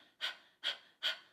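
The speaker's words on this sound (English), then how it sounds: "Basically what you're doing is panting" Three rhythmic, breathy panting exhalations from a singer doing a vocal breath-support exercise, each a short forceful puff of air evenly spaced and close up, with no talking.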